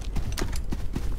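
Horse hooves in the game Rust: quick, irregular clip-clop thuds in a rapid, close rhythm across the whole clip, with no talk.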